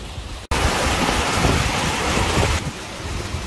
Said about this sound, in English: I'm right up to the waterfall now, right next to the plunge pool.